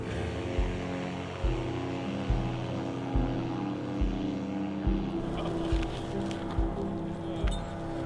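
Small paramotor engine drones loudly with a steady low rhythmic pulse during a launch at 7,000 feet, rising in pitch near the end as the run builds.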